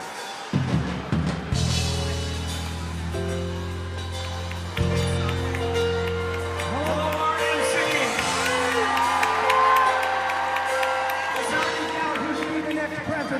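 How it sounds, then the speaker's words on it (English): A large crowd at a political convention cheers and whoops, a roaring wash of voices with shouts rising and falling, while a voice speaks over it through a sound system. "you can hear everybody. The crowd is roaring."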